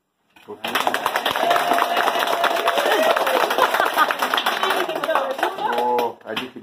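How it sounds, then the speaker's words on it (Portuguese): Lively applause at a birthday party, many hands clapping continuously for several seconds with voices and cheers mixed in, then tapering off. "uma salva de palmas para o John Wesley"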